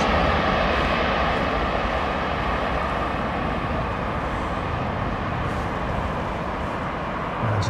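A Boeing 787-10 Dreamliner comes in to land at London Heathrow in wind and rain, its engines a broad, steady roar mixed with gusty noise that stays loud throughout.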